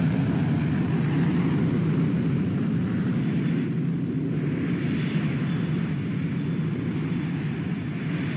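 Steady, dense engine roar of an Airbus A340 in a Roblox flight simulator, a broad low rumble with whooshing hiss on top, held constant and loud throughout with no talking.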